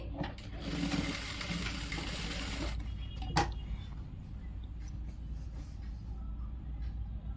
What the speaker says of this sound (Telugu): మీకు వాయిస్ ఓవర్ ఇస్తూనే స్టిచ్చింగ్ చేస్తున్నాను కదా